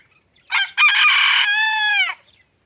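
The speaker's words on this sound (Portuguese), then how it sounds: "O galo cantou." A rooster crows once, loud and close, a full drawn-out cock-a-doodle-doo with no one speaking.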